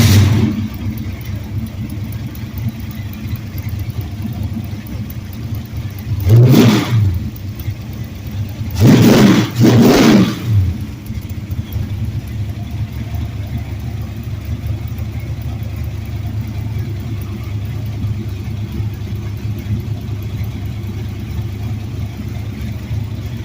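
A heavily modified 660 engine cranks, catches and revs in a few loud bursts in a garage, then settles into a steady rumbling idle with voices in the background.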